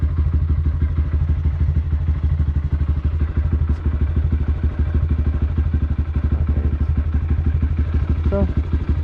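A motorcycle engine idles and chugs steadily, loud and close, with an even rhythmic low throb and mechanical clatter running throughout on a cold day.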